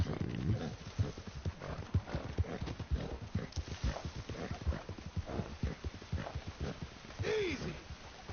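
Horse hooves clip-clop in a steady, rhythmic gait across the ground in Red Dead Redemption II, with a short whinny near the end and a voice talking faintly underneath.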